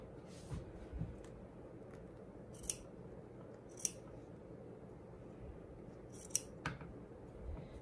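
Scissors cut through heirloom quilted blanket fabric for applique, with a few sharp, quiet snips spaced apart against a faint room background.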